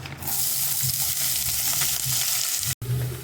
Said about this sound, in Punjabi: ਤੇਲ ਗਰਮ ਹੋ ਗਿਆ ਤੇ ਆਪਾਂ ਇਹਦੇ ਵਿੱਚ ਪਾਉਨੇ ਆਂਗੇ ਹੁਣ ਪਿਆਜ਼ ਲਸਣ ਅਦਰਕ